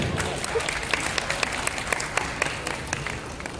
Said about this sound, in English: A big round of applause for Prince Charming.